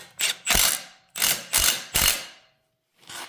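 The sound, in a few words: ratchet tightening bolt on RX-7 power steering bracket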